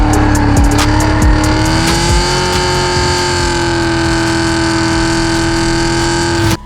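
A Hennessey H1000 1,000-horsepower supercharged Cadillac CT5-V Blackwing with long-tube headers drives past loud and close. Its engine holds a sustained, raspy drone, and the sound cuts off abruptly near the end.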